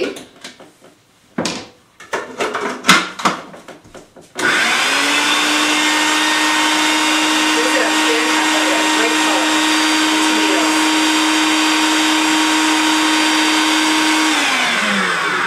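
A food processor blends cream cheese, tomatoes and jalapeno with a loud, steady motor whir that starts abruptly after a few seconds of clattering and runs without pause for about ten seconds before winding down.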